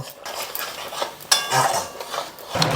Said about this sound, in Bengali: এবার আমি এটাকে খুব সুন্দর করে কষিয়ে নেব